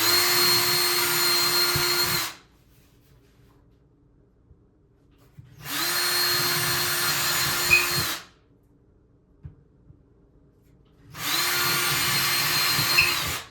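A power drill bores holes into a bathroom wall, in three separate, steady whining bursts of about two to three seconds each. Each burst is loud and close, with quiet gaps between them and no talking.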